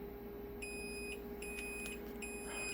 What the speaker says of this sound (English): Those beeps kill me.